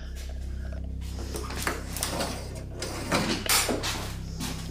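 Locked door being tried in a video game, several rattling, clunking handle and latch knocks in quick succession over a steady low hum, fairly close.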